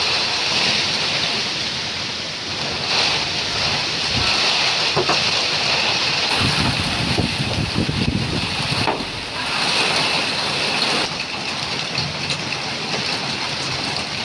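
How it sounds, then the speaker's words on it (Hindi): Heavy rain pouring steadily over a house, a broad constant wash of noise with some gusty swells and dips, loud and close, no voices. "बहुत तेज़ बारिश हो रही है"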